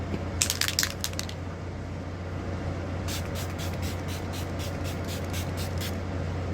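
Two bursts of quick, hissing makeup setting spray pumps, a short cluster early then a longer run of repeated spritzes, over a steady background hum.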